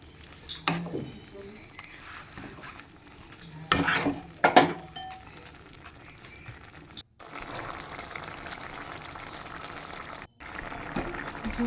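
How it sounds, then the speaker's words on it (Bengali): A pan of prawn malai curry gravy is stirred with a utensil, giving clinks and scraping knocks against the pan and bursts of liquid sloshing and bubbling at close range. Brief spoken comments come in between. "ভালো করে নেড়ে নিচ্ছি"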